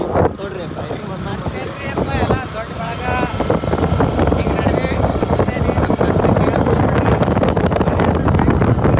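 A motorbike with a running problem, sluggish and slow, arrives with its engine running, giving a loud, steady rumble mixed with wind buffeting the microphone while a person speaks nearby.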